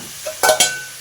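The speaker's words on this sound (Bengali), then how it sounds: "এখন ভেজে নিচ্ছি, তারপরে জল দেবো" Potatoes and ridge gourd frying in a pan for a poppy-seed dish: a short burst of sizzle with two quick stirring scrapes, close, with no talk.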